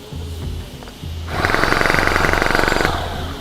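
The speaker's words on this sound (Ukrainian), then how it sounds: "І він продовжує працювати." A Dnipro-M jackhammer, still working after a 12-metre fall, idles with low thumps, then bursts into loud, rapid pounding for a second and a half before slowing back to a rumbling idle.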